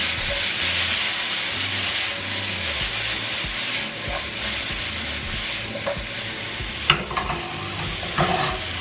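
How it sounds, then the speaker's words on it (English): Vegetables for shrimp salsa verde roast in a hot pan with a steady, close sizzle and hiss, broken by a few sharper clatters of stirring near the end; no one speaks. "The goal here with the veggies is to get kind of roasted."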